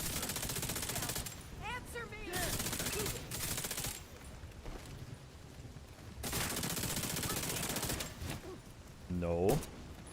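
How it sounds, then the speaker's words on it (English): Bursts of pistol gunfire in a video game, heavy loud sections a few seconds apart, with brief voice fragments between them. "I don't know why I'm trying to pistol this guy down"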